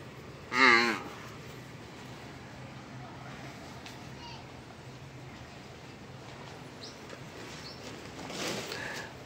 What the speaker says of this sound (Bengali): এটা আবার হচ্ছে একটা অন্য ব্রিডের মহিষ।